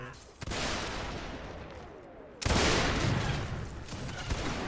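Gunfire in a North and South siege video game comes as dense, sustained volleys of musket shots and rumbling blasts, loud and continuous, swelling sharply partway through.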